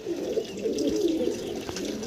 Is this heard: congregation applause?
no